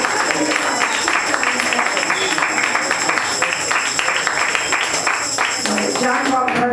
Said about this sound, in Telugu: నమ్మిన చప్పట్లు కొట్టండి